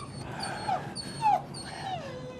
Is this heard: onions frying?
no